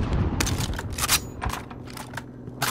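Gunfire is traded in a multiplayer shooter, with rapid, sharp bursts of shots arriving in irregular clusters, fairly close, one after another over a low background rumble.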